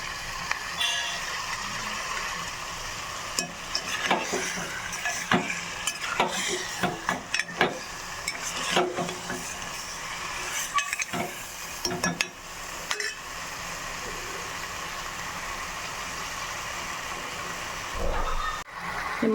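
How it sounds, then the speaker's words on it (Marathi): Mutton pieces frying in a pan: continuous sizzling broken by frequent sharp stirring scrapes and metallic clinks of a spoon against the pan, with a brief thump near the end. "हे मटण फ्राय होत आहे."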